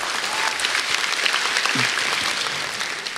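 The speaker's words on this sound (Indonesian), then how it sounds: "Tepuk tangan buat Kompas TV." Studio audience at a stand-up comedy show applauding for Kompas TV, a brief burst of dense, even clapping that fills the whole moment.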